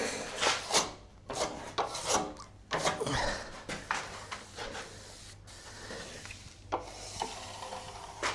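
A trowel smooths Multifinish plaster over Renderlite, giving repeated soft rasping scrapes in an uneven rhythm of strokes, close and fairly quiet.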